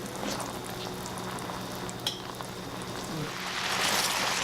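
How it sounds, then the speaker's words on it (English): Shrimp scampi sauce made with shrimp broth simmering and reducing in a pan, a continuous gentle sizzle and bubbling hiss with a faint utensil clink midway, close and steady without any voices. "let our sauce here come to a simmer and reduce it to half"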